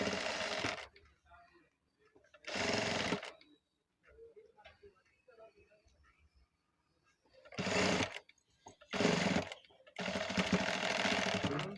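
A sewing machine stitches a blouse in loud, close bursts of rapid whirring clatter lasting a second or a few seconds each, separated by quieter pauses with faint handling sounds.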